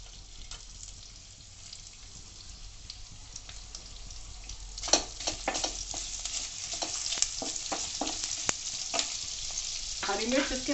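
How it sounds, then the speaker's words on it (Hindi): Ginger and garlic sizzle and crackle in hot oil in a kadai, a steady frying hiss with scattered sharper pops that grow busier toward the end, and no one speaking over it. "इसमें ये अदरक लहसुन मैं डाल दूंगी।"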